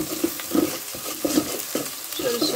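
Onions frying in mustard oil for a rohu fish kalia, a bright continuous sizzle with repeated scraping stirs of the spatula, close and fairly loud, no voices.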